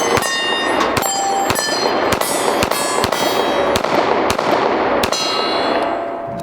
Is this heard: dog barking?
no